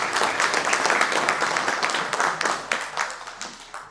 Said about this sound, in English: Please give a big round of applause to Mr. Salunkhe.